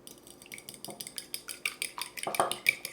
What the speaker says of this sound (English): I'm going to use my fork to beat it all together